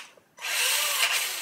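A Tamiya DT-03T RC truck drivetrain, its differential packed with ceramic grease, runs with a steady high whine. The whine starts abruptly after a short quiet moment, holds even and close, and briefly swells once.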